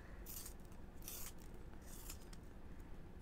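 Pencil sharpened at a quiet library study desk, giving three short, faint scraping and grinding bursts close to the microphone.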